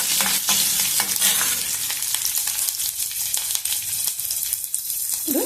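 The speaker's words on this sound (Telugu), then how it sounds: "ఇప్పుడు పచ్చిమిర్చి కొంచెము వేగనిద్దాము" Green chillies frying in a pan for lemon rice give a loud, steady sizzle with a dense crackle, broken by repeated scraping strokes of a spoon stirring them, close up with no voices.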